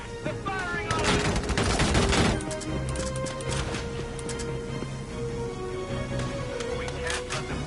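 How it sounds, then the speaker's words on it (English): Enemy gunfire in a video game, a tight rapid burst of shots in the first couple of seconds, then scattered sharper cracks over a steady music bed, with speech woven through. "They're firing on us!"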